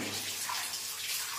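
Hot water pours steadily into a container for a village bath, a soft continuous splashing rush, faint and close, with no voices.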